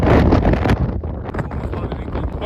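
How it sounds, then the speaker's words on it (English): Strong wind buffets the microphone on the exposed summit slopes of Scafell Pike, a loud, continuous roaring rumble with gusty swells, and breathy voices of hikers briefly audible beneath it. "It is windy."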